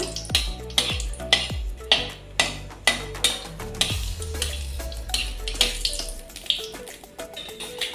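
Two dried red chillies fry in a pan, with a steady crackle broken by repeated clinks and scrapes of a utensil against metal, up close with no talking.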